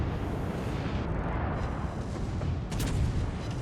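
Naval gunfire in World of Warships Legends: heavy, continuous booming shell fire and impacts rumble loudly and unbroken, with a sharper burst near the end.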